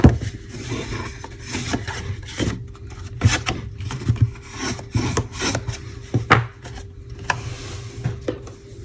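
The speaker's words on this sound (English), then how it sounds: "we'll just take our bone folder and burnish all four sides." Bone folder burnishing the edges of paper on a tissue box cover, repeated dry rubbing and scraping strokes in uneven bursts, close and fairly quiet.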